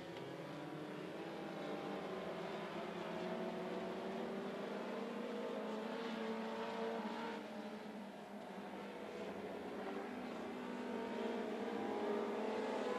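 Race cars run a feature race at Needmore Speedway, their engines merging into a continuous, distant droning whine that swells and eases slightly as the pack circles, faint but sustained throughout.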